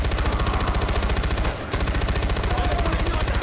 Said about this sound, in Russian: здесь есть пулемет. Я должна встать за него. На пулемет.